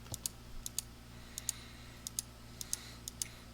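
Sharp, evenly spaced computer mouse clicks come in close pairs and singles while a polygon is traced around a stockpile in LP360 point cloud software, alone over a faint steady hum.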